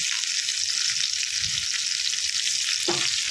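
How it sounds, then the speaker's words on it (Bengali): Small fish frying together in a pan in a home kitchen, a loud, steady hiss of sizzling oil with a brief low bump near the end, close and without talk. "তাই সব কটা মাছ একসাথেই ভিজে নিচ্ছি"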